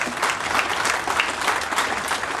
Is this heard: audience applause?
yes